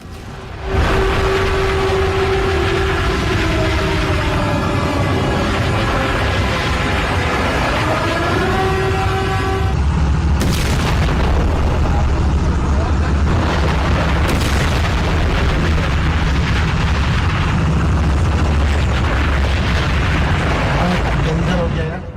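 Missile strike explosions at a large Saudi oil refinery, heard as a continuous loud roar of blasts and rumbling with a rising tonal whine early on, followed by sharp bursts and heavy low booms.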